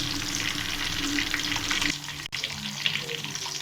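Lahori chargha chicken frying in a pan, a steady sizzle and crackle of hot oil with faint stirring, close and continuous.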